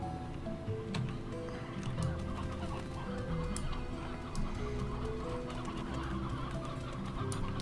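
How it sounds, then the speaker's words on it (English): Many hens clucking in the Slime Rancher farm game, a busy overlapping chorus of soft clucks and short squawks, steady and moderately close, with no talking. "So many hens."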